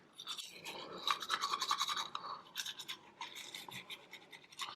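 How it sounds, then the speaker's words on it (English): Fast scrubbing of a small hospital toothbrush on teeth, heard close up after double jaw surgery. The bristles rasp in quick, uneven bursts for several seconds. "Come on, baby toothbrush. Yeah, and brush."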